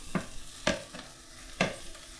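Lobster sizzles in a pan, with several sharp stirring scrapes and clacks cutting through a soft, steady frying hiss, close by.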